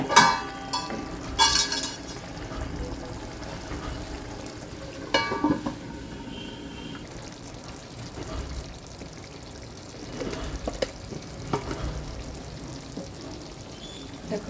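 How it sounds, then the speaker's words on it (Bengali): Water is poured into chicken bhaji cooking in a pan, which is then covered, producing splashing and sizzling at the start, a clattering lid, and a steady low bubbling simmer afterward. "আর একটু সামান্য জল দিয়ে ঢেকে রেখে দেবো।"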